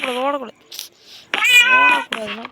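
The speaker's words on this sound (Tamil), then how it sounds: "சனியம் பிடிச்ச பூனை இதுவா, சொல் பேச்சு கேட்கணும்." A cat in the Minecraft video game meows three times in quick succession, loud and close, with short pauses and soft clicks between the calls.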